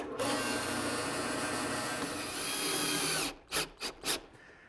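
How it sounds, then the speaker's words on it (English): A power drill whines continuously for about three seconds while drilling a hole partway into wood, then three short bursts follow as the bit is pulsed. "I'm going to drill another hole here partway through."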